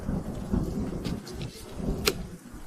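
A low rumble of thunder rolls through a steady rain-like hiss, with a sharp crackle near the end; no voices.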